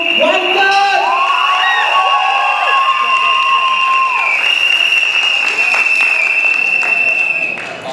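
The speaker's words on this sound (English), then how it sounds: "Give a big hand, a round of applause to wanted." College event crowd claps and cheers loudly, with whoops and shouts rising over steady applause and some tonal background sound running throughout.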